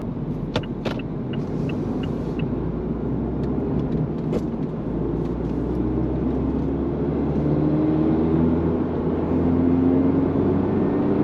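Steady low engine drone and road roar from inside a Mazda MX-5 ND2 cruising along a dual carriageway, even and continuous, with a few faint ticks and clicks over the top.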